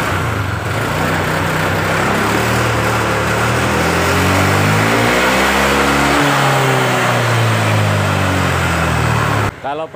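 A Honda Vario CBS scooter with a hesitating, sputtering engine revs loudly and unevenly up close, the pitch rising and falling in surges for nearly ten seconds before cutting off abruptly.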